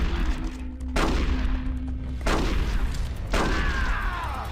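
Gunshots in the video game Metal Gear Solid: The Twin Snakes, three loud booming blasts about a second apart, each decaying into echoing rumble over steady background noise.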